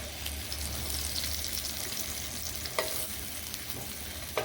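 Beef steak sizzles and fries in a pan while being stirred, a steady close hiss with occasional louder scraping clicks of the spoon.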